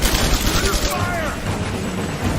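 Dense, rapid gunfire from Rise of the Tomb Raider rattles continuously and loudly throughout, with shouted voices mixed in over the shooting.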